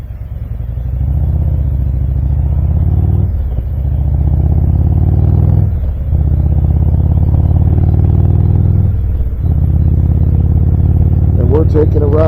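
Motorcycle engine rumbling steadily on a fall ride, loud and continuous with a few brief dips as if shifting gears, close to the microphone with talk over the engine noise throughout.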